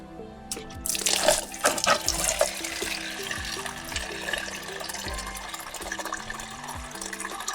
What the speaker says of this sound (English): I'm probably gonna get some coolant out of this.